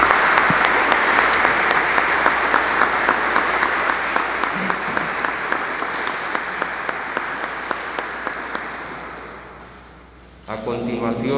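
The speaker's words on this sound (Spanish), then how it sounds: "brindémosle un fuerte aplauso." Congregation applauding inside a cathedral during Sunday Mass, a loud, sustained wash of dense clapping that carries on for about ten seconds, then fades and gives way to a voice speaking.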